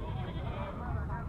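A Beetal goat with kids at a livestock market in Taxila gives a sustained, wavering bleat, close and fairly loud amid busy market noise.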